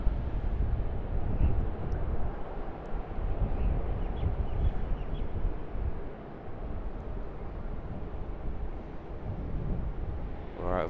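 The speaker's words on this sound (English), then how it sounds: "Another Qantas 737 also just about at the end of 34 right, heading for departure." A Qantas Boeing 737 airliner taxis for departure at Sydney Airport near runway 34 right: a continuous low, distant engine rumble mixed with wind noise, with no voices.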